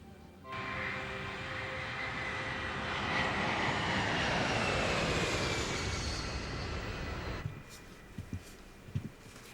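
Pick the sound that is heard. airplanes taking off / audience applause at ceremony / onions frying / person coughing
airplanes taking off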